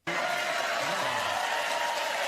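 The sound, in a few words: Colbert show studio audience cheering and applauding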